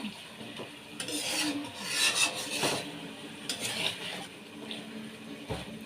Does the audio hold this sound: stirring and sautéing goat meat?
yes